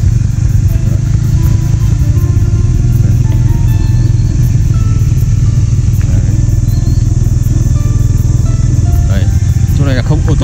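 A motorbike rides along a rough access road toward a weekend leisure garden near Hanoi, with a loud, continuous engine drone up close, wind buffeting and a voice talking over it.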